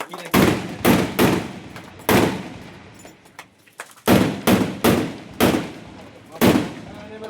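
Firecrackers set on the ground go off one after another, sharp loud bangs at irregular intervals, each with a short fading tail, some in quick pairs, with a brief lull midway.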